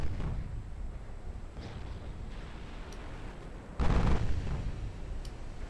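A warship's main guns fire in a naval war game set in an Imperial Austrian campaign, with deep booming blasts, including one heavy, loud report midway over a rumbling battle background.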